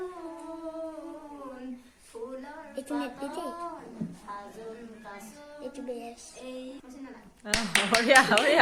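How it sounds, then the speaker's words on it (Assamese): Hand clapping bursts in near the end, a quick run of sharp claps after a stretch of singing and talking voices, as listeners join in at the close of a folk song. "হাত তালি"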